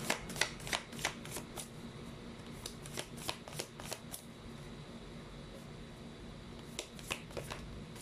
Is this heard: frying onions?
no